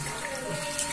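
Water runs steadily from a tap into a 5 litre cooking pot being filled with about 4 litres for a boil-up, a continuous close splashing rush with no talk.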